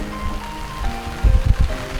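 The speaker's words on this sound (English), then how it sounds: "it just all of a sudden started downpouring" Sudden rain downpour on a sailboat in the British Virgin Islands, a steady wash of falling water with heavier splashing bursts near the end and faint tonal hums underneath.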